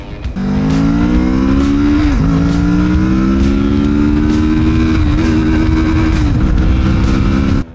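A Kawasaki Z650RS motorcycle engine revs loud and close, holding a rough, steady drone for several seconds with brief dips and surges in pitch before cutting off, and nobody speaks.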